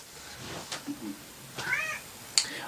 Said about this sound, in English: if you see a cat's tail back and forth, that's Talia